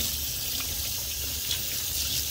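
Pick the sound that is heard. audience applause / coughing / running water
running water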